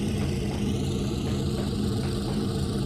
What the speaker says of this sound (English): Those engine sounds are really cool.